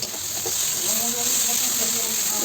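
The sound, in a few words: chopped tomato frying in ginger, garlic and green chili paste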